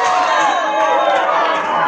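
Racing supporters cheer and shout loudly and continuously after the club wins a youth under-11 football penalty shootout against Grêmio Independente in the Piauí championship, a dense crowd roar close at hand.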